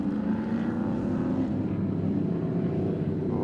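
A Ford XD Falcon Group A racing car at Winton circuit, its engine a loud, continuous roar droning steadily throughout at close range.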